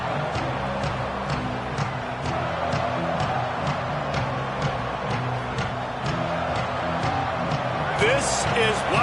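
Loud, constant roar of a football stadium crowd cheering, with a commentator talking over the noise throughout.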